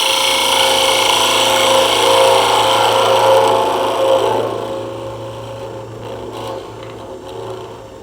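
Wood lathe spinning timber while a parting tool takes a fine cut on the end of a Christmas tree turning, a steady close hum with a scraping, hissing edge that fades after a few seconds as the cut eases off.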